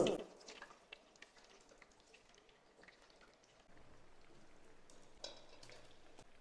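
Fish pieces lowered into hot oil over low heat, a quiet bubbling crackle with soft irregular pops that thicken slightly midway, no talk.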